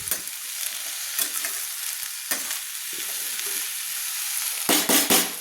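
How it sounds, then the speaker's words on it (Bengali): Shredded cabbage fries with spices and chilli powder in a pan, a close crackling sizzle broken by scraping stirs, with a few louder clattering strokes near the end; no one speaks. "আমি মশলা দিয়ে বাঁধাকপিগুলোকে সুন্দরভাবে আমি কষিয়ে নিচ্ছি"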